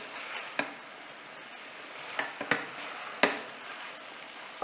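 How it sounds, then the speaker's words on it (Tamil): Basmati rice with paneer and peas sautéing in masala, giving a steady soft sizzle broken by a few sharp scrapes and clinks as it is stirred in the pan. "கொஞ்சம் அரிசி கூட வதங்கணும்."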